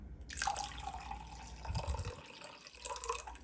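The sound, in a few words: lukewarm water poured into sourdough starter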